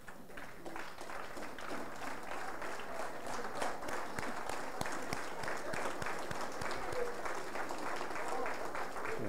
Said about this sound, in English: ask the audience to stand and give Bakhara a big round of applause